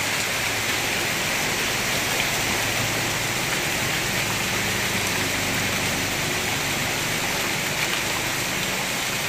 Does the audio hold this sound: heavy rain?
yes